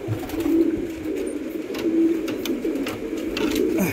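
Pulsar breed pigeons coo in low, rolling bursts at close range, the calls recurring every second or so over a faint patter of background noise.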